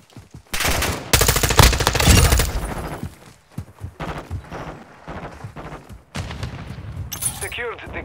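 Bursts of automatic gunfire from Call of Duty Modern Warfare 2, loud rattling volleys early on, then scattered shots and clatter among other battle noise.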